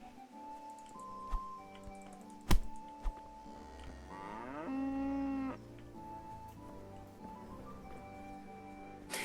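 A cow in the medieval game Kingdom Come: Deliverance lets out one long, clear moo nearby, rising and then holding steady over a quiet background with a few faint clicks and knocks.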